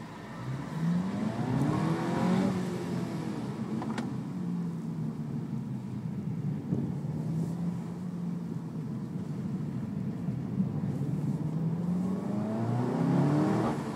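A sporty car engine runs and revs up with a steady, rising drone that swells and falls over several gear pulls. It is close and continuous throughout, with no talking.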